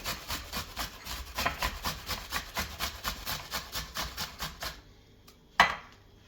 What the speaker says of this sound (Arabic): هنا أحبة المتابعين عندي هذه قطعة البصل، أبرشها بهذا